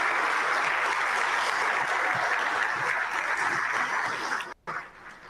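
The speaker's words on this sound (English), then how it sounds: "Let's give manufacturers a round of applause" A large audience at a manufacturing summit applauds in a dense, sustained roar of clapping that holds steady and then cuts off abruptly near the end.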